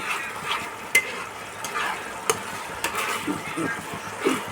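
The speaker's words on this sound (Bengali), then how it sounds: "আঁচ কমিয়েই মশলাটা কষানো হবে।" Spice paste with yogurt, green chili, ginger and cashew being stir-fried on medium-low heat for a vegetarian pointed gourd dish, a soft sizzle broken by repeated spatula scrapes and knocks against the pan.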